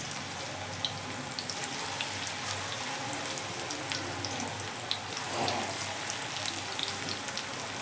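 Methi palak pakoras made from fenugreek and spinach deep fry in hot oil over high to medium heat, a faint, steady crackling sizzle with scattered pops and no talking.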